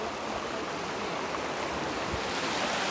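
A waterfall at Ambernath MIDC gives off a constant broadband roar of rushing, splashing water, steady and enveloping with some wind rumble on the microphone and no talking.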